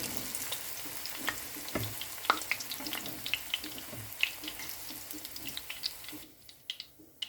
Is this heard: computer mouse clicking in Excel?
no